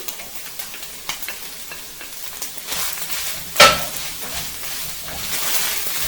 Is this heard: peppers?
yes